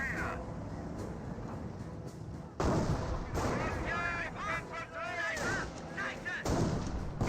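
Anti-tank gun fire in Company of Heroes, a World War II real-time strategy game, with sharp booming shots and a steady bed of battle noise while a commentator talks over it.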